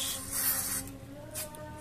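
Two short hissing bursts from an aerosol cleaner can spray up close onto the throttle body of a Honda Supra 125 FI motorcycle, the first longer and stronger, the second brief.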